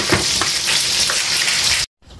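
Spring rolls sizzling in hot oil, a dense, loud, rain-like crackle held close and steady throughout, then cut off abruptly near the end.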